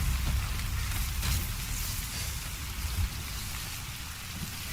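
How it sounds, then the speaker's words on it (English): Steady, dense rain pours throughout a rain-soaked scene in the video game Death Stranding, with a constant hiss and patter and no voices. "I hope that'd at least stop it raining, but I guess not. I guess it perpetually rains."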